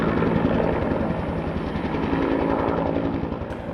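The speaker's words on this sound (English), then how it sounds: "the helicopters have been working most of the time" A firefighting helicopter working wildfires in southwest Oregon flies close, its rotor producing a loud, steady rapid thudding with a dense engine roar throughout.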